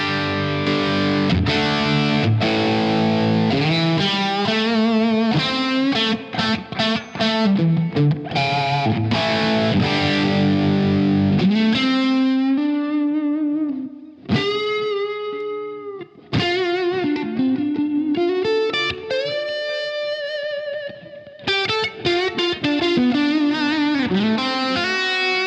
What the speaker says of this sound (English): let's check out the sound of the Shanks and the Landau together.